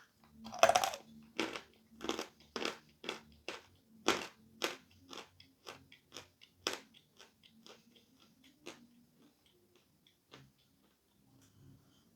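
Close, loud crunches of someone biting and chewing sawn chalk bars, a rapid run of sharp bites that slowly thins into sparser, quieter crunches, with no talking.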